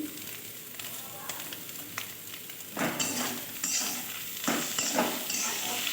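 Chopped vegetables and a small tomato frying and being stirred in a pan for a Maggi noodle fry, a steady soft sizzle with louder stirring scrapes and bursts toward the end.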